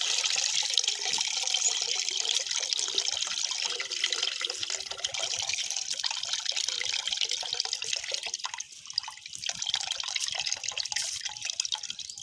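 Water and washed rice pour steadily into a metal cooking pot for a village-style potato rice dish, a continuous close splashing trickle with no talk.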